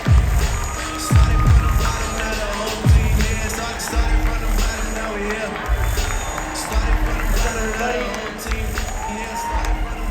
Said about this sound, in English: Ladies and gentlemen, please give a huge round of applause for